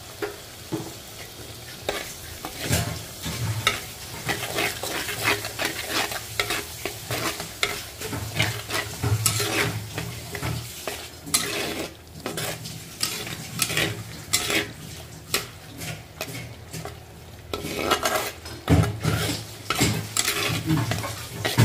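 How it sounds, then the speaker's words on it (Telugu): Chicken with ginger garlic paste sizzles in a pan for a Telugu-style chicken curry, while a utensil scrapes and stirs in repeated bursts over a steady frying hiss. "అల్లం వెల్లుల్లి పేస్ట్ కూడా యాడ్ చేస్తున్నామండి."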